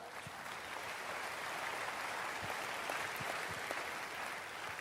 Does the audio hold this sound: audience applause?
yes